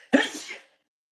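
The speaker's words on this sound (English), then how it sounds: "That was a sneeze from hell." A single loud, sharp human sneeze that bursts out abruptly and fades within about half a second, followed by silence.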